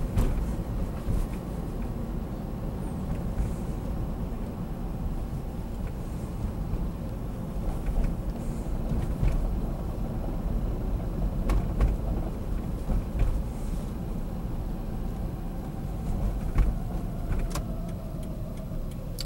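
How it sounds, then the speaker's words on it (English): Steady low engine rumble from a Toyota Prius misfiring on cylinder 1, with irregular knocks and rattling bursts, sustained and fairly loud throughout, no talking. "Car shaking, there's the rattle noise"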